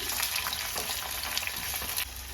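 Chopped onions fry steadily in hot oil for a Kannada-style matar paneer masala, a dense continuous sizzle with light stirring scrapes, close and even throughout, no voices.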